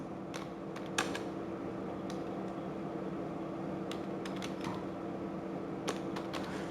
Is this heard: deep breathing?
no